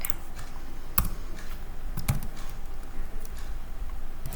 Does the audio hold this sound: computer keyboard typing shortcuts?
yes